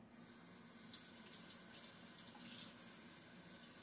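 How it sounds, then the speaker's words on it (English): Tap water runs in a continuous, even hiss as mint leaves are rinsed for a smoothie, faint and steady with no talking. "So now I'm going to rinse off"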